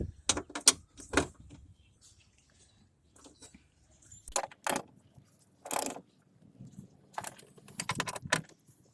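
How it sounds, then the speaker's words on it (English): Ratchet tightening bolts on the window regulator of a Chevy Cruze, heard as close, bursty metallic clicking and clattering in several separate spurts with quiet gaps between them and no talking. "Now I'm about to torque them all down."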